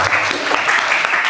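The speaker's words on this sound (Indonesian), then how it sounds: "Oke, kita kasih apresiasi dengan tepuk tangan ya." Audience applause at a training session as a discussion group finishes presenting, a dense, steady clatter of clapping that fills the short moment at fairly close range.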